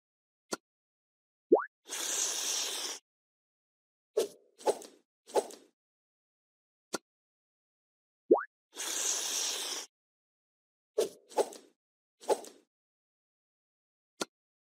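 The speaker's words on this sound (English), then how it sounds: "Let's add some jam and peanut butter." Cartoon plops, squishes and swooshes sound as jam and peanut butter land on a sandwich in a kids' game, a short sequence of separate effects that plays twice with silence between.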